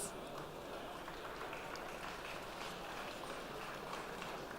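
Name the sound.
applause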